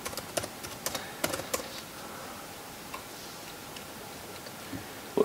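Typing on the keyboard of a Lenovo C330 Chromebook: crisp key clicks come close in loose bursts over the first two seconds, then fall mostly quiet with a few scattered taps and one last click at the end.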